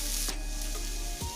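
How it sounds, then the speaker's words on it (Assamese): Onions fry in a pan with cinnamon and garlic, a brief loud sizzle with stirring scrapes, close up and without voices. "পিঁয়াজৰ কেঁচা গোন্ধটো যোৱালৈ মই ভাজি ল'লোঁ"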